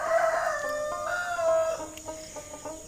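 Fayoumi chickens at a poultry farm in Gopalganj give a clear rooster crow followed by repeated clucks and calls, fairly close, over steady barn background noise.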